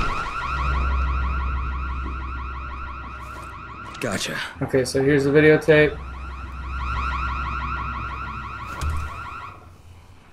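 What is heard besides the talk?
house alarm in the video game Dying Light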